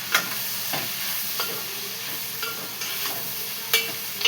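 Brinjal and ivy gourd curry fries in a pan with a soft continuous sizzle, broken by several crisp spatula scrapes and taps at irregular intervals, close and unaccompanied.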